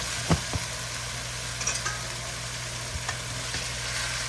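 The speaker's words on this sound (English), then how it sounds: "I'll give it a little bit of a whisk." Chicken sizzling in olive oil in a pan with lemon pepper, a steady close frying hiss broken by a few soft clicks of a whisk stirring, with no talk.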